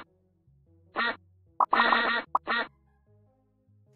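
Ducks quack in a short burst of three to four loud, nasal calls close by, with a soft low rhythmic backing tone running underneath and no talking.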